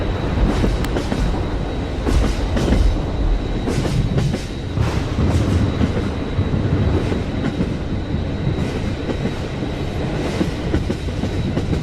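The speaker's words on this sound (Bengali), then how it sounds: "ট্রেন তখনও ছুটে চলেছে" Cartoon sound effect of a train running, a steady loud rumble with rhythmic clickety-clack of wheels on rails, continuous throughout with no talking.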